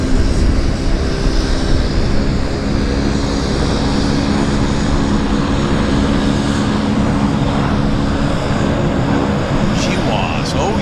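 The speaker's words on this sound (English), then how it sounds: "Really something beautiful takeoff with WestJet." A WestJet airliner takes off at Vancouver YVR airport with a loud, sustained engine roar that holds steady close by throughout.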